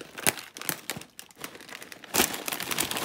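A plastic packet of Tesco crinkle cut smoked chipotle chili jam flavoured crisps being handled, with close, loud crinkling and rustling in bursts that continue throughout.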